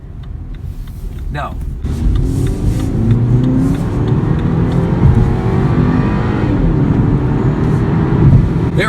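A BMW X1 28i xDrive SUV accelerates hard from a standstill toward 60 mph, its engine note climbing and rising through gear changes, loud and close from inside the cabin, with someone speaking briefly at the start.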